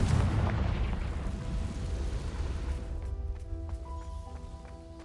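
A Confringo fire spell explodes in Hogwarts Legacy with a booming blast right at the start, decaying over a few seconds into lingering ringing tones.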